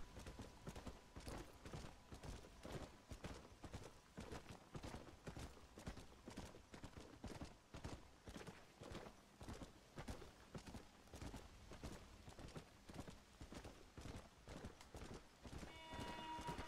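Horse hooves clip-clop at a steady walking rhythm in the Red Dead Redemption: Undead Nightmare game, even and moderately close throughout, with a faint musical tone near the end.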